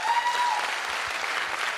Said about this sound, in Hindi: मैं चाहूंगा एक बार जोरदार तालियां आप सभी के लिए।